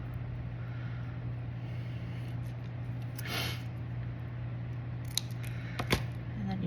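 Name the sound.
scissors cutting orange paper triangle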